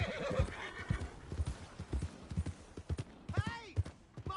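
In the video game Red Dead Redemption 2, a horse's hooves clop in a quick galloping rhythm, and a shrill neigh rises near the end, with some voices in the background.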